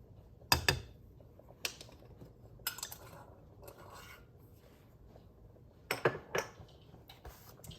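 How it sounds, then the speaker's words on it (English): A pepper mill grinds fresh black pepper for Cincinnati Greek-style chili, giving short, close ratcheting bursts with quiet pauses between them. "We're going to add a teaspoon of fresh ground black pepper."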